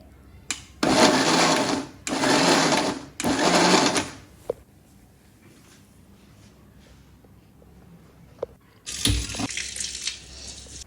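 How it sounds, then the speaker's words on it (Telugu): Mixer grinder blending tomato chutney in three loud whirring bursts of about a second each, stopping between pulses, followed by a quiet pause with small clinks and then another loud burst near the end. "అది కూడా వేసుకొని ఇంకొకసారి మిక్సీ అయితే పట్టుకోవాలి"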